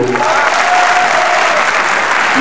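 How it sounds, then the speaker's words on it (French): A hall full of people at a political meeting in the Palais du Parlement claps steadily, a dense, even wash of applause with a few voices rising faintly within it. "On applaudit pour le Congo."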